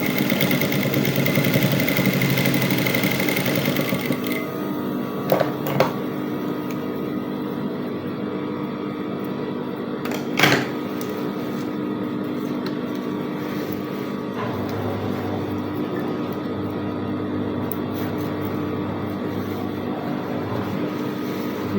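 A sewing machine stitching brocade dress fabric, a continuous motor whir with a steady mechanical hum, one or two brief clicks and knocks, close and alone.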